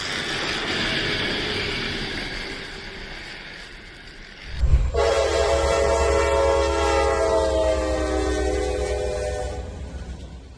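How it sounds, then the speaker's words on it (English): A high-speed electric train draws power in very cold weather, sounding as a steady roar with a sharp crack partway through. After the crack comes a loud sustained tonal whine with layered overtones, and no voices are heard. "a normal side effect of a high-speed electric train pulling"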